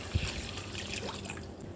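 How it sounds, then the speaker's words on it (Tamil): Water is poured into a pan of mashed tomato chutney as it cooks, a soft continuous trickle and splash heard close up and fairly quiet, with one brief thump near the start. "இப்போ இந்த ஸ்டேஜில் நம்ம வந்து தண்ணி ஊற்றிடலாம்."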